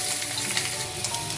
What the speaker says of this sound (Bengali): লাল করে পটলটা ভেজে নিচ্ছি।